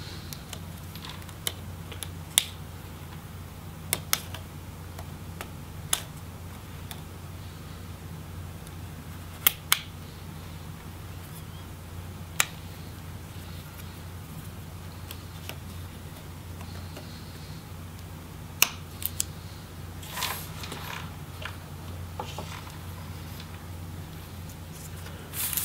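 Ribbon cable connectors inside a Huawei Matebook X Pro laptop are unclipped one by one, making sparse, sharp little clicks and snaps over a quiet, low background hum.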